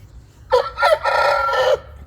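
A rooster, a fighting cock, crows once close by and loud, a full drawn-out cock-a-doodle-doo about a second long with a rising start and sustained end, over a quiet background.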